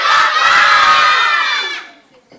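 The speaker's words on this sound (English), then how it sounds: "Let me hear by you shouting the name of your school." A room full of high school students shouts their school names all at once in a loud, dense burst of overlapping voices, close by, lasting about two seconds before fading out.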